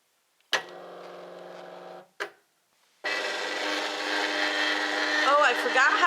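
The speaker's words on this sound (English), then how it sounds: "I'm hitting cut on the machine." A Cricut cutting machine cutting paper gives a short steady hum with a brief click, then after a pause a loud, continuous motorized whir that builds slightly and carries on alone.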